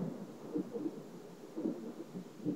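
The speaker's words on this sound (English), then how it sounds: "Hopefully this rain won't be too bad when it gets dark out later on." Steady rain falls during a storm, with low, rolling rumbles of distant thunder swelling and fading every second or so beneath the constant patter.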